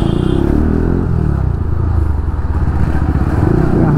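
A KTM Duke 250 motorcycle with a slightly burnt clutch drifting, its engine roaring loud and close with steady rumbling revs and some scraping clatter throughout.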